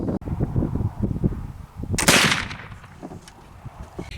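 A single sharp gunshot from a firearm loaded with homemade black powder, a loud broadband blast near the two-second mark that trails off, with low rumbling handling noise before and after.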